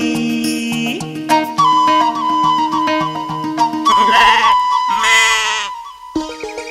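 Lamb-like bleats woven into a Kannada film song, repeated wavering calls riding over a bright melodic accompaniment, loud and up front.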